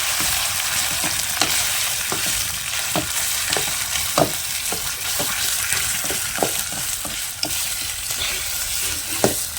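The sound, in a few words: stir-frying boiled mustard greens in a kadhai with a ladle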